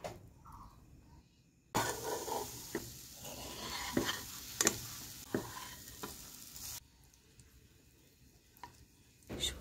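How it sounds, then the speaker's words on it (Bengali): Semolina, grated carrot and sugar fry in a pan, giving a soft sizzle with repeated scraping stirs and a few light clinks of the spoon, close but quiet, with quieter pauses before and after. "আমি সামান্য পরিমাণ ঘি দিয়ে সুজি আর গাজরটাকে ভালোভাবে ভেজে নেব"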